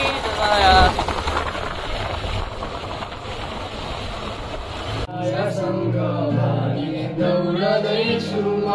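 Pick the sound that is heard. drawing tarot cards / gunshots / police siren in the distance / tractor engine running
tractor engine running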